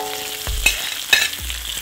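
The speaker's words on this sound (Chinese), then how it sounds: "我们的鸡丁下锅" Diced chicken thigh meat hits hot oil in a wok with chilies, Sichuan peppercorns, ginger, scallion and garlic, giving bursts of loud sizzling and stirring scrapes over a steady frying hiss.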